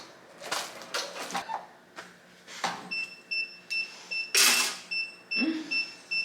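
Embroidery machine stitching a test sample with metallic thread: irregular mechanical whirring bursts broken by brief pauses, with steady high beeping tones toward the end, close and moderately loud.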